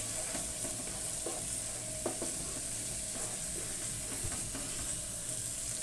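Ginger garlic paste frying together with onion paste for a korma, a steady close sizzle with occasional scraping stirs of a spoon in the pan, with no talking.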